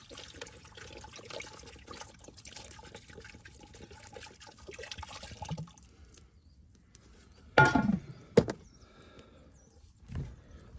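Water tipped from a bottle onto a campfire, a brief splashing pour standing out after a stretch of steady outdoor background noise, followed by a second short splash and a quieter trickle.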